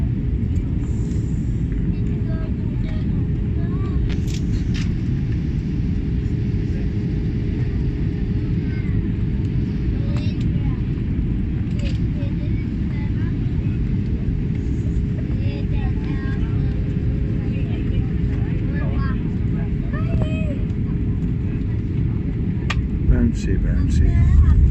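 Airbus A320 landing heard from the rear of the cabin, a loud continuous rumbling roar of engines and airframe that swells slightly near the end as the aircraft bounces on touchdown.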